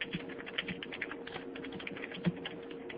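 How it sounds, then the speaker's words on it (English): Rapid, dense keystrokes clatter on a computer keyboard as someone types furiously, close and continuous with a few sharper key hits. "Here's someone furiously typing"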